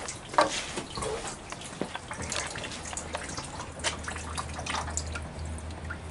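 Water dripping and trickling after a line has been drained, with scattered close drips and splashes over a low steady hum and background noise.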